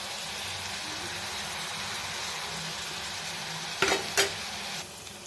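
Onions sautéing in a pan for a shark puttu dish, a steady close sizzle and frying hiss with two sharp scraping stirs near the end before the sizzle drops slightly.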